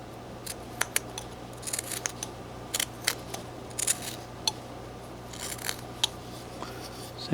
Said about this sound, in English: see how I drag my knife?